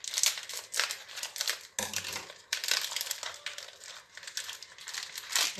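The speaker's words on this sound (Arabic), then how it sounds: "الاول مبدئيا كده هنقص الكيس كده" A plastic biscuit bag is cut open, the close, crisp crinkling and crackling of thin plastic being handled and snipped in several bursts with a brief pause midway, no talk.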